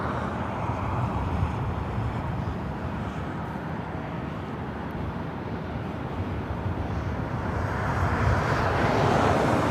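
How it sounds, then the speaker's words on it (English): United Express SkyWest Embraer E175 jet arriving at LAX, a broad steady rushing engine roar at moderate distance that swells slightly toward the end, with no voices. "Next arrival is United Express SkyWest Flight 5329, coming from Monterey, California to the E175."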